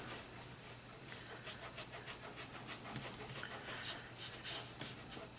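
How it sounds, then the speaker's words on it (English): A fingertip rubs Gelatos crayon color into a small mixed media canvas, making soft, close, rhythmic scrubbing strokes that repeat steadily throughout, alone and fairly quiet. "I use my finger, and I just rub the color in"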